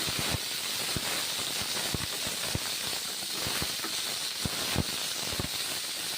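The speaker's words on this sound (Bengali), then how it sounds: "মোরলা মাছ এইভাবে রান্না করছি, ভেজে নিচ্ছি" Mourala fish frying with ridge gourd, tomato and onion in hot oil gives a steady, close, loud sizzle and hiss, broken by frequent small pops and spatters.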